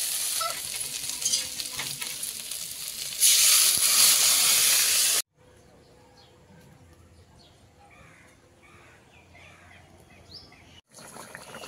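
Water poured into a frying curry of pui shak and taro in a pan, a loud hissing sizzle that swells and then cuts off, followed by quieter faint bubbling and stirring.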